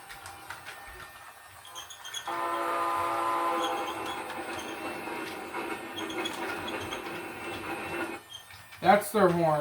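A played-back recording of an HESR locomotive horn sounds one long, loud, sustained chord that cuts off sharply, followed by a brief burst of other noise near the end.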